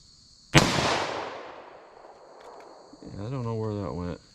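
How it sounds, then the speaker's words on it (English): A short-barrel .38 Special revolver fires once in single action outdoors at a target 75 yards off: one loud, sharp report with a long, ringing decay, followed by a brief humming voice. "Let me fire one in single action. Another 38 special."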